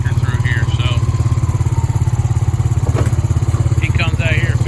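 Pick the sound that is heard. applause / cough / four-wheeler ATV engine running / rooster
four-wheeler ATV engine running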